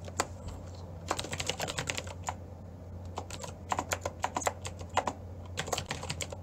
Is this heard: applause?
no